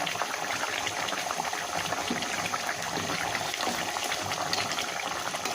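Rohu fish curry in a tomato-sauce broth with green chilies boils vigorously in a pot, a steady close bubbling and hissing simmer that continues evenly throughout.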